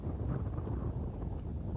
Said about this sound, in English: you can hear that wind howling now